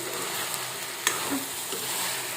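Pieces of meat fry hard over a high flame, giving a brief burst of dense, even sizzling with a single sharper pop partway through.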